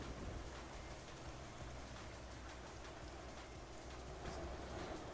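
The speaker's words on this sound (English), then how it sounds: "God, the rain is coming down." Heavy rain pours in the Euro Truck Simulator 2 driving game, a dense, even hiss of drops drumming on the truck with a low rumble underneath, steady and unbroken throughout, with no voices.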